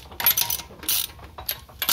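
Lug nuts on a 2010 Nissan Altima 2.5S front wheel being snugged down in a star pattern during a brake pad job, giving short ratcheting clicks and metallic turns in several quick bursts, close and fairly quiet.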